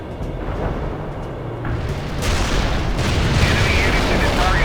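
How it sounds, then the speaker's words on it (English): Artillery fires in the video game World in Conflict, a heavy, continuous rumble of booms and blasts that builds louder partway through, with game radio voices over the bombardment. "Artillery firing"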